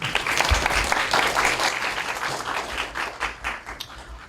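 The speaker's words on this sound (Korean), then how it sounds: "박수 한번 쳐주시죠." Audience applause at a public lecture hall talk, a crowd clapping together in a full, lively burst that peaks early and then gradually thins out toward the end, with no talking over it.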